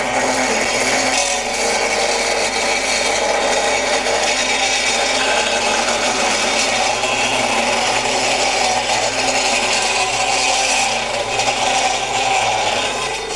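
An MEP Tiger 350AX double-mitre cold saw cuts metal with no cutting fluid, a loud, continuous grinding rasp that holds steady throughout with no talk.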